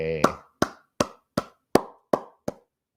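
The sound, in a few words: hands clapping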